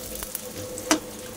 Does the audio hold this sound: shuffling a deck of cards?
no